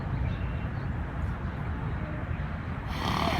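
Close, breathy sniffing from a six-year-old reactive Mustang horse, ending in a single loud snort near the end.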